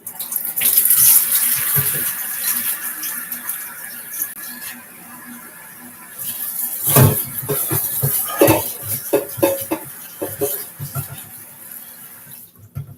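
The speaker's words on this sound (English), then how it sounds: "rinsing veggies. So you want to do this with cold water." Cold tap water running steadily into a kitchen sink while vegetables are rinsed, a continuous splashing hiss with occasional sharper bursts and faint dish clatter, no talking.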